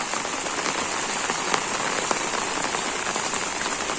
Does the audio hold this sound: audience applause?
no